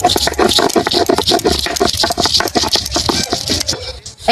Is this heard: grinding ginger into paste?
yes